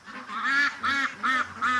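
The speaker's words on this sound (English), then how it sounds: "There's an awful lot of ducks here." A flock of ducks gathered by a lake gives four loud, evenly spaced honking quacks in quick succession, close to the listener with no talk.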